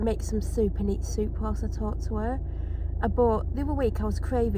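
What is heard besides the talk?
No everyday noises stand out.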